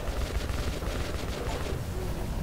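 A flamethrower fires in Metro 2033 Redux, a continuous loud roaring rush of flame that holds steady without a break, dense and close with no talk.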